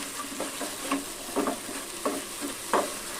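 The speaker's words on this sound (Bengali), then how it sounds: "হলুদ লবণ দিয়ে মশলাটাকে একটু ভালোভাবে একটু কষিয়ে নেব" Spice paste with turmeric and salt frying and being stirred in a pan, soft steady sizzle broken by a few sharp scraping strokes of a spoon, close and moderately quiet with no voices.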